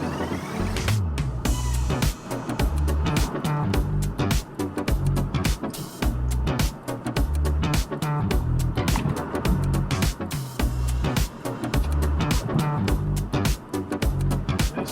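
Busy road traffic heard as a dense, continuous rumble of passing cars and trucks with repeated swells, loud and close throughout.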